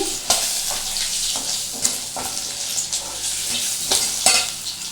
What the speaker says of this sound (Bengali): এই মাছটা একটু ভালো করে ভেজে নিতে হবে।